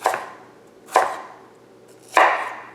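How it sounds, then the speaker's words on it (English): A kitchen knife chops lined-up apple matchsticks into rough cubes on a cutting board, three distinct crisp thuds spaced about a second apart, close and loud with no talking. "I'm just going to line these matchsticks up and then just cut these into rough cubes."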